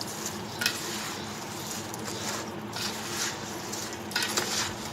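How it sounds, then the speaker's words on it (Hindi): Achar pickle pieces being stirred and mixed by hand with spices and oil, a steady wet rustling and scraping with occasional louder clinks against the pot, close and continuous. "इसे अच्छी तरह मिक्स कर लूँगी।"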